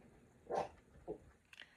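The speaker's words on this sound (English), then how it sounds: "That would be my puppies." Puppies let out a couple of short barks and a faint whimper, brief and moderately near, against a quiet background hiss.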